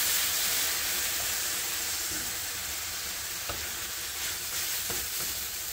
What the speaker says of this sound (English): That'll deglaze the pan a little bit more. It'll give some more color and flavor to those onions. and it'll help them sweat out a little bit quicker.